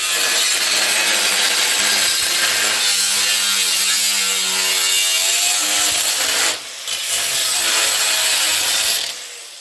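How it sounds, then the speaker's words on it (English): Excess material is trimmed off by cutting, giving a loud, close, continuous rasping, sawing-like sound that briefly dips near the end, with no speech. "I'll just trim this right off along here"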